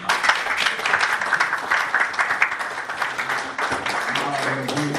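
Audience applause at a town board of commissioners meeting, a burst of clapping from a modest crowd in a meeting room that thins out toward the end.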